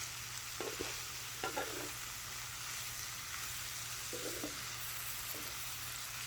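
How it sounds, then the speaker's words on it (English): Bacon fried corn cooks in a pan with a steady, quiet sizzle and hiss, while a utensil scrapes and stirs through it in a few short bursts, with no one speaking. "So you just want to keep stirring, like let it cook for 3 minutes and then stir it."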